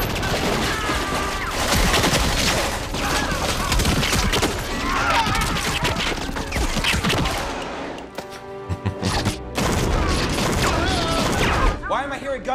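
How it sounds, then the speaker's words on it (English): Rapid bursts of gunfire crackle and rattle amid chaotic noise and shouting voices in the 1998 film Blade, with a short lull before the shooting resumes. "Gunfire, huh? Did I tell anybody to start shooting?"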